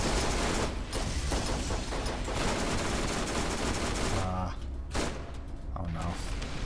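Gunfire in the game Borderlands aimed at an object, loud rapid bursts of shots that fill most of the stretch, with a short lull and a final burst; a voice talks briefly.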